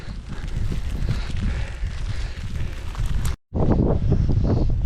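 Strong gusting wind buffets the microphone on an exposed hillside beside Hadrian's Wall, with a roaring, continuous rush that cuts out briefly for a moment before blasting back in loud and close.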